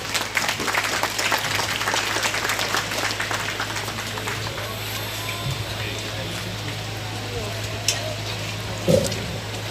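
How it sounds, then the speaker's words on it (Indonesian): Indonesian audience at a foundation signing ceremony in a village in Sidomulyo, South Lampung, applauding steadily for the full length, a dense crackling wash of many hands with a low steady hum beneath. "Bapak Ibu beri tepuk tangan untuk kita semua."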